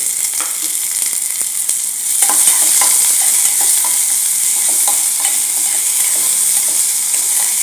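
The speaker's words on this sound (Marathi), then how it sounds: "आणि थोडं परतून घेऊया" Chopped onion sizzles loudly in hot oil for Maharashtrian brinjal bharit, a steady bright frying hiss with occasional stirring scrapes and clicks throughout.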